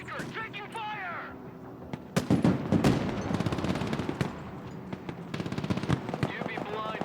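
Bursts of machine-gun fire and gunshots in the war video game Broken Arrow, with rapid rattling volleys and heavy impacts building from about two seconds on, loud and close, while radio-style voices talk over the combat.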